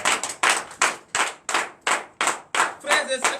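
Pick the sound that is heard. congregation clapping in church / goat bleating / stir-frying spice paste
congregation clapping in church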